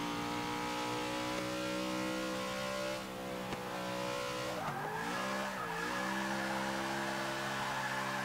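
Engine of a NASCAR race car in the Forza 6 racing game, a sustained high whining rev with shifting pitch as the car drifts, tires squealing near the middle, loud and alone.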